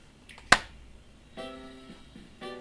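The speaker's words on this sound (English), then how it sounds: "No snap, we clap." A single sharp hand clap, loud and close, followed by soft electronic chime tones from a Nintendo Switch 2 console setup in a quiet room.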